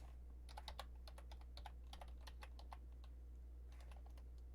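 Someone types on a computer keyboard in quick irregular bursts of crisp, close key clicks, pausing briefly before a final short run, over a low steady hum.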